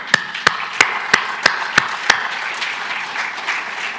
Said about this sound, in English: We should clap ourselves.